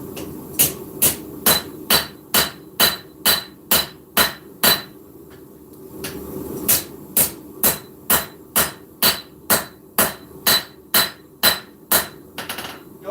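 A hammer strikes hot steel again and again while stepping down the integral bolster on a forged knife, sharp ringing blows in a steady rhythm with a brief pause midway.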